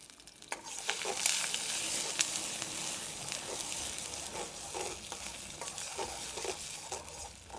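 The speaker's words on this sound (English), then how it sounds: "First of all goes in the onion, the red pepper" Onion, red pepper and chilies sizzle loudly in a hot, flaming pan for a Balti, a bright continuous hiss broken by regular stirring and scraping strokes.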